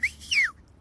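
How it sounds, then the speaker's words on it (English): A person whistles two short, close, clear notes, the second sliding downward, alone with no talk around them. "It's only that kind of whistle."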